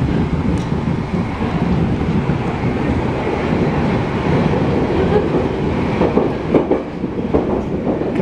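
A Berlin U-Bahn train rumbles loudly and steadily, a heavy continuous roar of wheels and motors close by, with a few brief rattles and clanks toward the end.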